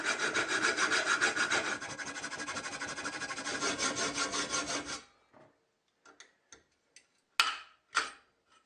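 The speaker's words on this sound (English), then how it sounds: "I'm going to cut a big hole in the guard right about here." A saw cuts into a table saw guard in a dense, continuous rasping burst for about five seconds, then stops. Scattered light knocks and clicks follow in the quiet.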